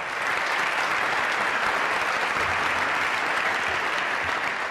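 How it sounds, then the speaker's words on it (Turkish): Dense, steady applause from a Turkish TV game show studio audience, filling the whole stretch at an even loudness with no break or voice on top. "Öncelikle tablomuzu bir alkışlayalım,"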